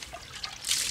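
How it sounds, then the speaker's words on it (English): Water dribbles from a sponge into mortar being mixed for a basement window replacement, a soft wet trickle with light drips that swells into a brighter splashy gush near the end. "use our sponge to keep adding the water, mixing it up"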